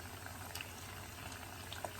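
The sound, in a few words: homemade french fries frying in hot oil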